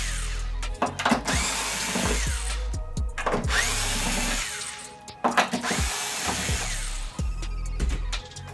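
A power drill whines in repeated bursts while backing screws out of the stand on a 2016 Samsung 55-inch curved TV, model UN55KU650DFXZA, with short pauses and clicks between each loud, close run.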